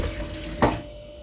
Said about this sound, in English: you see, the starchy water is coming out.